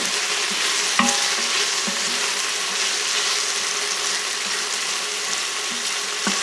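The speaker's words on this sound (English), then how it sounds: "So now I'm putting in the garlic. You don't cook the garlic very long because you don't want to burn it." Garlic sautéing in an Instant Pot, a steady bright sizzle with occasional scraping stirs against the pot, close and continuous without speech.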